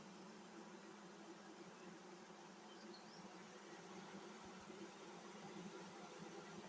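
A steady, faint buzzing drone of many bees at a hive, continuous and even, with no voices.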